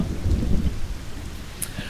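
Steady heavy rain with a deep rumbling thunder underneath forms the stormy weather effect in the online game Legends of Aria, loud and continuous across the whole stretch with no voices.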